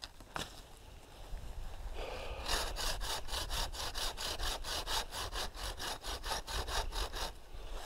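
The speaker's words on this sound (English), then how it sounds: "So right now I'm sawing here" Steady rhythmic hand sawing through firewood at a winter campsite, regular back-and-forth strokes close up, picking up pace after a couple of seconds and continuing to the end.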